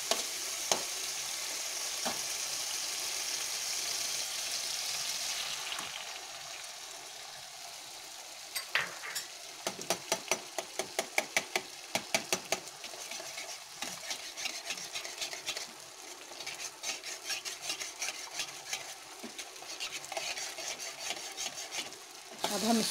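Two eggs frying in a pan of cooked-down red Swiss chard with oil make a continuous sizzle, broken in the middle by a run of sharp, rapid scraping and tapping sounds from stirring, with no talking.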